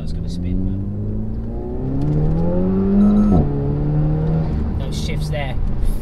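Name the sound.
Renault Megane RS accelerating hard in second gear, wheels spinning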